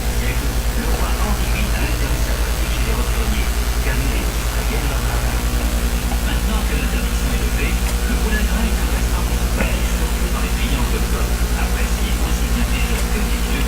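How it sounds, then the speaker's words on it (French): Tractor engine in a farming and logging video game runs at a steady, loud idle throughout, a continuous low drone with even harmonic bands and no pauses, with no talking over it. "Donc on saute dans le tracteur."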